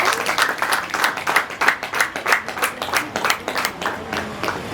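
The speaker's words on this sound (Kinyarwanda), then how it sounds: "Amashyi kace kace" Rhythmic group clapping at a civil wedding ceremony at a sector office in Rwanda, parents and guests beating slow, regular claps that rise and fall in distinct pulses, moderately loud with no talk.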